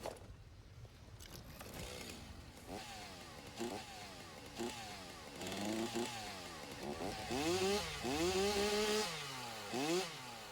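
A chainsaw in the game Satisfactory revs repeatedly and grows louder, each whining burst rising and falling in pitch over roughly ten seconds, with no voices.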